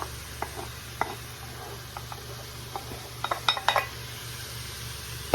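Leftover sausage, potatoes, onions and garlic sauté in an Instant Pot, giving a faint low sizzle with scattered light clinks and scrapes of a utensil against the pot, growing busier toward the end.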